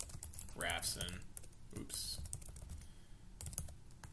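Fortran code being typed on a computer keyboard, a steady patter of close key clicks running throughout while a person speaks over the first half.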